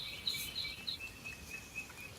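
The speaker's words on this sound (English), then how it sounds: "You're hearing birds." Faint birdsong outdoors: short high chirps and trills repeating every half second or so, quiet and thin over a soft steady background hiss, with no talking.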